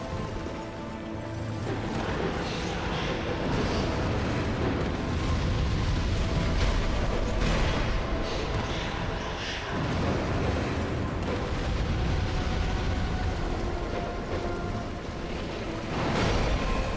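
Dense, continuous booming explosions from the video game Dark Souls 2, loud and sustained throughout with rolling bursts and crashes layered over one another and no clear pauses.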